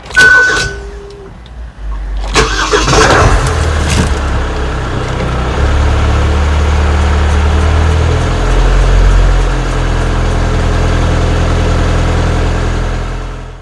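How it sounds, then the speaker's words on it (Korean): A used car's engine runs with abnormal loud noises, a heavy steady roar and rumble that swells after a few sharp clunks at the start and holds loud throughout. "그런데 엔진 소리 한번 들어볼까요?"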